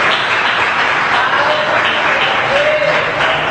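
A church congregation claps together during a sermon, a continuous roar of many hands in a reverberant room, loud and sustained throughout, with a faint voice beneath.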